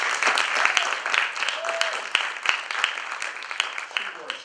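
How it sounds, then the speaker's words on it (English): A lecture audience applauds an executive director, with scattered sharp claps standing out from a lively wash of clapping that slowly thins toward the end. "Let's give her a round of applause."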